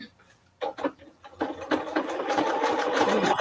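A sewing machine runs a shortened zigzag stitch while making a zippered fat quarter project bag, starting in short stop-start bursts and then settling into a continuous, fairly close whir.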